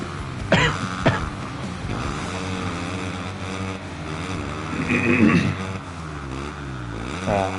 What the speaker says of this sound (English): Anybody wants to sit here and hear me cough?